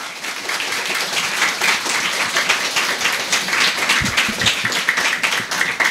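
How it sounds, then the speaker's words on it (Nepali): Sustained applause from an audience welcoming contestants at a Nepali extempore speaking contest, a dense, steady wash of many hands clapping close by throughout, with no speech over it. "उहाँहरूलाई जोरदार तालीका साथ स्वागत"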